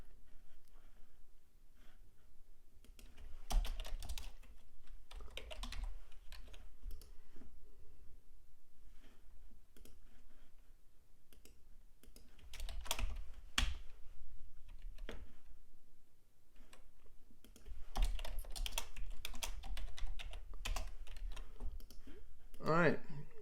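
Bursts of computer keyboard typing come and go while building an app page in a software demo, the clicks close and quick, with a person talking between them.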